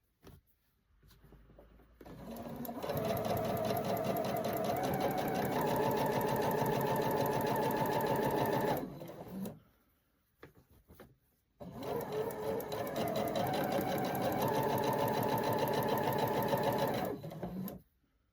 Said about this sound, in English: go and sew these on the machine